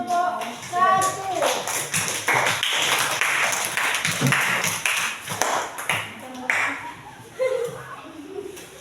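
Applause from a classroom group of students, a dense burst of clapping lasting several seconds, close and fairly loud, with children's voices and a spoken word mixed in.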